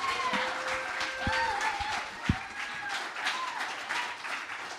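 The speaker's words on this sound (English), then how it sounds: "Another round of applause." Applause from a live audience follows a performance, a steady wash of clapping with a few sharp individual claps standing out near the front, with a voice briefly rising over it.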